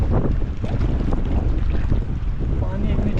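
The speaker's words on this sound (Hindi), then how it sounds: "हवा अभी बहुत तेज़ चल रही है" Strong wind at a mountain campsite on the Hampta Pass trek buffets the microphone in loud, gusty rushes, with low roaring rumble and a faint voice in the background.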